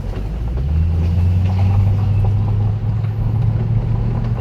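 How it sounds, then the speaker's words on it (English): A 2007 Mercedes-Benz SL55 AMG drives along with a loud, steady low engine drone heard from inside the cabin, holding an even tone throughout with no talk. "that is the 2007 Mercedes-Benz SL55 AMG"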